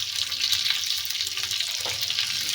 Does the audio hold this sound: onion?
yes